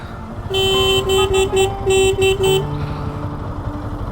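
Vehicle horns honking on the Athirappalli–Malakkapara forest road, a close burst of several short, loud toots in quick succession, then fading into the low rumble of traffic.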